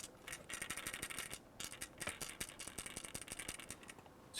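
An Xbox 360 console being shaken gives a steady, close rattle of loose parts knocking inside, a dense run of quick clicks and clatters that keeps going with only brief pauses.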